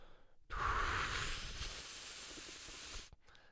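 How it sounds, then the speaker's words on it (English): A steady, breathy rush of air blown through tightly pursed lips, starting abruptly, holding for a few seconds, then cutting off, close and fairly quiet. "I would kind of bring my both my lips in to create a much smaller opening"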